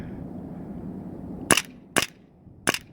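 An airsoft handgun fires BBs in three sharp, close snaps spaced about half a second apart over a quiet room background, with no talking.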